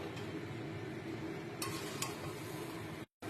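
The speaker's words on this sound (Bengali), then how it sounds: "ভালো করে নাড়িয়ে নাড়িয়ে পুরো মশলাটা যেন মাংসে ভালো করে মাখা হয়ে যায় সেদিকটা করতে হবে" Chicken curry meat coated in masala is stirred in a pan with a steady close sizzle throughout and a couple of brief metallic clinks from the spoon. No one speaks, and the sound cuts out abruptly near the end.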